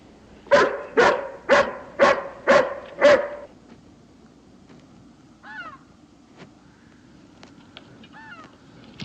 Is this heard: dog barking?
yes